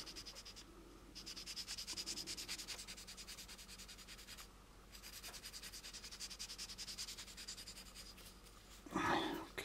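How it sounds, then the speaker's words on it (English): A plastic model kit, the AMT U.S.S. Enterprise 6676, is sanded with fine sandpaper, heard as soft, close, rhythmic rasping strokes in two bursts, ending with a brief louder knock. "remember to sand here, because with the smooth sandpaper, because you just hit it with the rough stuff"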